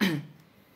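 A single short cough, close and fairly loud, fading quickly into quiet.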